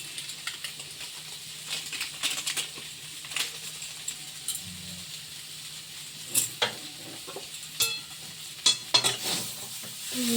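Potatoes stirred with Maggi masala in a frying pan: a low sizzle underneath irregular metallic taps and scrapes of a spoon against the pan, coming in small clusters and growing busier toward the end.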